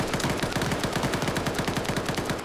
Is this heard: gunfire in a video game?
yes